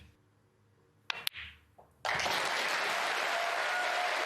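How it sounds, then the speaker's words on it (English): At the 2023 Scottish Open snooker final, a few faint clicks and knocks on the table come before the audience bursts into loud, sustained applause that carries on to the end. "And what a cheer."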